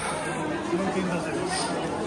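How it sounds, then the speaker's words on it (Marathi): A dense crowd murmurs at the Tuljapur temple on a busy Sunday. The chatter is a steady, even blend of many voices with no single distinct sound standing out. "बघा किती गर्दी आहे"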